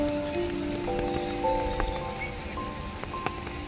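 Heavy rain falls while someone walks through Sanjay Gandhi National Park, a steady soft hiss of drops with faint sustained tonal calls drifting over it, fairly quiet and without speech.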